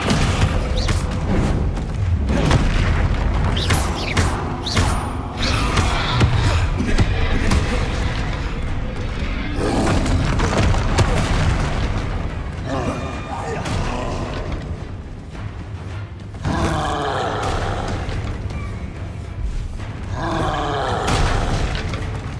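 Hogwarts Legacy spell combat with the Descendo slam, a series of heavy booms and thuds amid other spell impacts across a long, busy stretch, with someone talking throughout.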